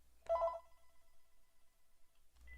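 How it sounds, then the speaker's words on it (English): A phone rings with a call on the other line, a single bright ring burst standing out loud in a quiet room before it fades, then a faint higher tone follows near the end. "whoever's calling on the other line, I'm not taking calls on this phone anymore"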